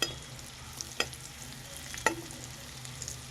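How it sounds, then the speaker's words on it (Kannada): Garlic frying in a pan for a Karnataka-style butter peas usli, a steady sizzle broken by two or three sharp scraping stirs of a spatula against the pan, close and without speech. "ನೋಡಿ ಎಷ್ಟು ಚೆನ್ನಾಗಿ ಬೆಳ್ಳುಳ್ಳಿ ಬೇಯುತ್ತಿದೆ"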